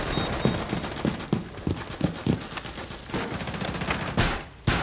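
Gunfire in Rainbow Six Siege rattles through walls as a series of evenly spaced shots, fairly close and loud. A final sharp burst comes near the end, and no voices are heard.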